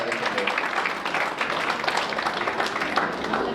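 An audience at a Pongal debate event applauds to welcome a speaker, a steady wash of many hands clapping at moderate distance, dense and continuous throughout.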